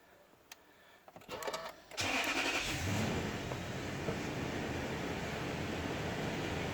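A car engine cranks briefly and catches, then settles into a steady, loud idle that continues alone.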